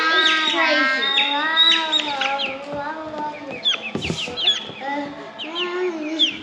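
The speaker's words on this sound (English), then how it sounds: "Yeah, they're nice little birds." Small young chickens cluck and chirp close by in a run of busy, overlapping calls, with a sharper burst partway through.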